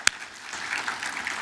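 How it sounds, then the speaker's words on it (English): Audience applause at a business appreciation breakfast held in a hotel venue, a sharp knock at the start, then a steady wash of many hands clapping in the room. "big round of applause for them."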